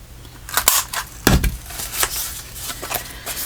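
Scissors trim the paper of a paper-bag folio journal in a craft session, making a series of crisp, close snips and rustles at uneven intervals, one sharper cut standing out.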